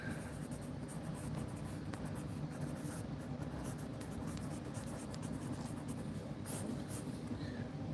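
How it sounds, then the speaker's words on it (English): Pen scratching notes onto paper close up, a faint continuous scribbling with light strokes over a steady low background rumble. "Let's write those down here."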